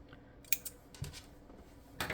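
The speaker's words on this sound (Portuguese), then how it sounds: "deixa eu até cortar que tá muito fio" Scissors snipping excess thread while finishing a handmade stuffed doll's head in a craft atelier, a few sharp close clicks spaced irregularly in a quiet room.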